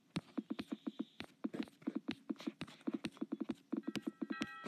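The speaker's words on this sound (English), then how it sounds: "So now, some horse." Horse sounds from the mobile game Crossy Road: quick rhythmic clip-clop hoofbeats in a steady patter with a brief whinny, clear and close with no talk.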